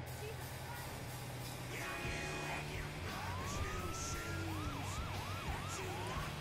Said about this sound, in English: He stole the ambulance.